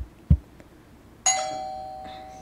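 A doorbell chimes once, a bright ding that rings out and slowly decays in a quiet room, preceded by a soft thump.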